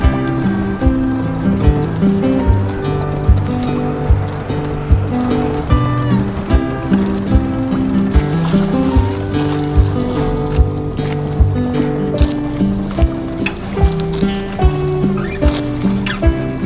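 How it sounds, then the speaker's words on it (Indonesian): A boat motors out of its mooring toward a floating raft house, the engine droning with a steady pitch and a regular thumping pulse that stays close and loud throughout. "Kita keluar dari parkiran perahu menuju rumah rakit, dan rumah rakitnya ada di sana guys."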